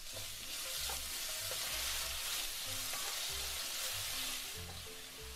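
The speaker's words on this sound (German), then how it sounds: "Nochmal schön anbraten." Food searing and sizzling in a hot pan, a steady loud frying hiss with intermittent stirring scrapes and clatter, close up and continuous with no talking.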